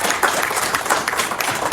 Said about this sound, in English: Let's give her a round of applause for even doing it